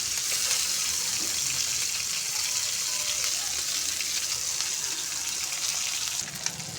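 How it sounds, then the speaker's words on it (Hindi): Chicken shami kababs coated in egg fry in a pan with a steady, close hiss of sizzling oil and a few faint scrapes, then a brief clink near the end. "बस हमने इसको हल्का सा फ्राई कर देना इस तरीके से"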